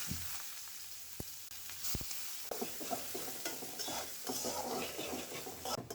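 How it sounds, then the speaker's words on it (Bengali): Chopped garlic and onion hit hot oil with two lightly fried dried red chilies, giving a soft, steady sizzle while a utensil stirs and scrapes the pan with a few sharp clicks. The sound is fairly quiet and close. "শুকনা মরিচটা হালকা ভাজার পর এখানে দিয়ে দিচ্ছি রসুন কুচি আর পেঁয়াজ কুচি।"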